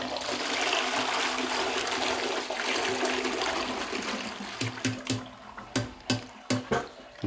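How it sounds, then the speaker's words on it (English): A household toilet flushes, a loud rushing swirl of water that drains down, then gives way to gurgles and sporadic dripping and trickling refill sounds close by. "now I'll flush it again"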